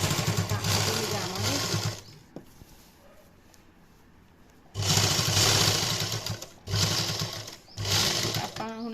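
An electric sewing machine running close by while stitching a shirt neckline, with loud bursts of whirring stitching separated by a quiet pause and short stops.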